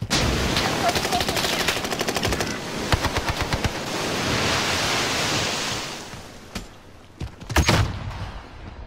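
Rapid bursts of gunfire in the video game Warzone, with fast automatic volleys in the first few seconds, then a few louder, isolated shots later against a rushing background wash.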